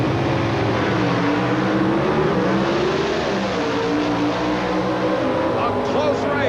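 Drag racing cars at the starting line of a 1988 NHRA nationals event roar steadily and loudly, engines holding a dense, rising drone throughout.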